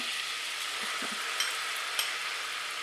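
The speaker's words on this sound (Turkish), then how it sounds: "bir çırpıcı ile şöyle güzelce karıştırıyorum" A whisk stirs flour into melted butter in a pot, giving a steady soft hiss and sizzle with a few faint clinks against the metal, close and continuous.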